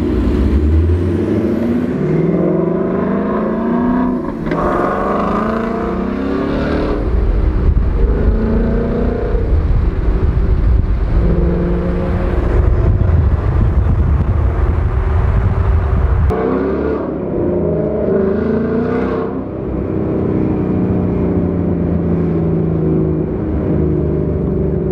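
A Ford Mustang drives by outside a tuning shop, its engine rumbling loudly and swelling then fading as it passes among other traffic noise, with a brief hiss near the end.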